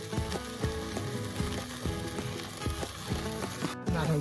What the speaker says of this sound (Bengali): ফ্রাই চলছে